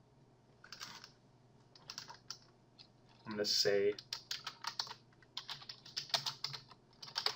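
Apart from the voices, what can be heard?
typing on a computer keyboard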